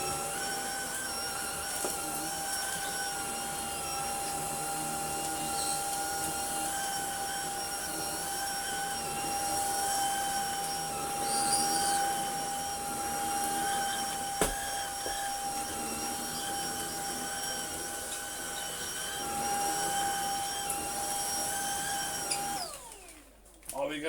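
A Numatic Basil NB200 vacuum cleaner runs steadily nearby with a high whine as it sucks up small bits of debris, its tone shifting slightly as it moves, then cuts off abruptly near the end.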